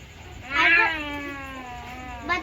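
A single drawn-out meow, close and clear, rising then slowly falling, followed by a short second chirp; a person imitating a cat.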